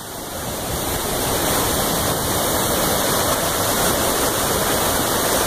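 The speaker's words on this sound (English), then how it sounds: "that's the biggest waterfall I've ever seen pretty much in my entire life" Huge raging waterfall roaring loud and steady up close, a dense unbroken wash of churning water with no pauses.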